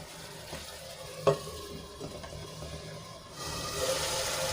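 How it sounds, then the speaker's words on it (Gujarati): Green chickpeas sauté in oil with a faint, steady sizzle, one sharp stirring knock early on, and slightly louder frying toward the end; nobody talks. "તો આપણા ચણા તેલમાં સંતળાઈ ગયા છે"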